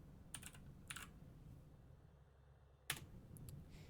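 Typing on a computer keyboard, a few quick bursts of close key clicks separated by pauses, ending with one firmer keystroke and lighter taps, quiet overall.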